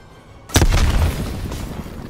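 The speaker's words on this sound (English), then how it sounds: "Incoming grenade." A grenade explodes in Call of Duty: Cold War, a sudden loud boom after brief quiet, followed by a rumbling, debris-filled decay that fades slowly.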